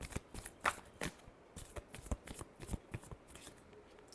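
Tarot cards are shuffled by hand in a quick series of close, crisp riffling bursts and soft slaps, with no one talking.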